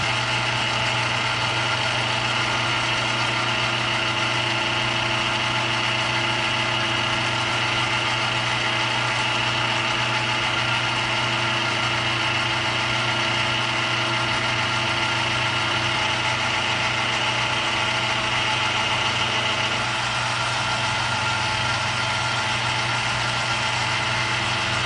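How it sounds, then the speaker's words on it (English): A metal lathe runs steadily for a light skim cut, giving a continuous even machine hum with a constant tone and no pauses, close and moderately loud. "We'll get the lathe started and we'll touch off, and then we'll just take a quick couple thousand skim cut"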